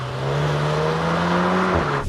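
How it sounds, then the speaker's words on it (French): Volkswagen Golf 8R engine droning steadily at high revs through a drift, a sustained tone shifting pitch slightly before dropping off near the end, loud and close with no talk. "on va mettre des vidéos de Golf 8R qui glissent"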